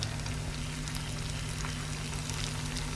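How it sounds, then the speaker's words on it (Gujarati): Sabudana vadas deep-frying in hot oil over a medium-to-high gas flame, giving a dense, continuous bubbling sizzle at steady loudness, close by, with a low hum beneath. "તો મીડિયમથી ફાસ્ટ ગેસની ફ્લેમ પર જ આ વડાને તળવાના છે"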